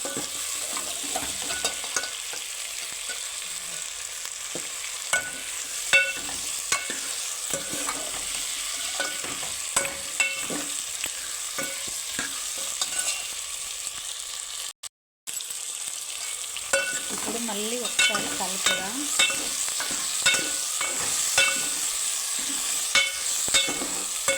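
Potato, tomato and onion curry sizzles steadily in a pan while a spoon scrapes and stirs it in repeated strokes, with a brief dropout partway through and no talking.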